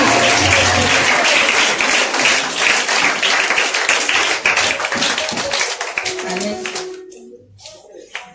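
Church congregation applauding loudly and steadily in a dense burst of clapping that fills most of the stretch, then thins out and stops near the end, with a brief voice at the tail.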